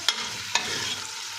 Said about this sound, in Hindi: और अब यहाँ पर प्याज को हमने गोल्डन फ्राई करना है या बस सोटे करना?